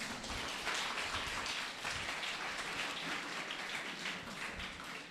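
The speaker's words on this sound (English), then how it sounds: "Can we give him a big round of applause?" Audience applause at a school event, dense and sustained clapping from a large crowd that stays loud and even throughout, with no voices above it.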